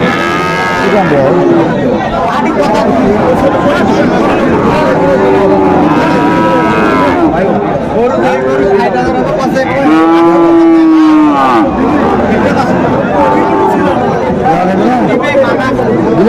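Sahiwal bull calves at a busy cattle market in Bogura give several long, loud, drawn-out moos over a constant crowd of chattering voices and close talk.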